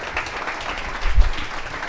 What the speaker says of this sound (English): we can round of applause for everyone